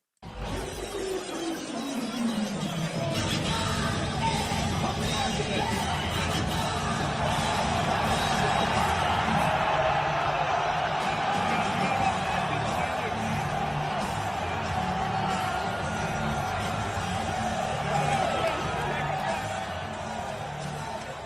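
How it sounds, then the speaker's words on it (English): A large rally crowd at Madison Square Garden roars continuously, a dense distant wash of cheering and whoops that swells early and holds steady throughout. "So you can hear the crowd though in this one."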